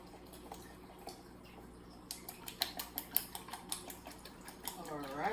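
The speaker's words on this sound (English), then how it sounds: "And our final wet ingredients will be 3 beaten eggs. Beat them." Three eggs are beaten in a bowl for cornbread stuffing, a quick series of close, crisp clinks and taps in an irregular rhythm after a quieter start, over a low background hum.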